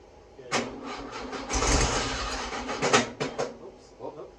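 A freshly rebuilt VW Beetle engine cranks and catches, sputtering unevenly for a few seconds before fading, with scattered clatter and background noise.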